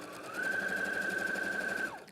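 Sewing machine stitching a single straight line across a quilt block of fabric, one steady whirring run of about a second and a half that starts and stops cleanly, heard alone and close.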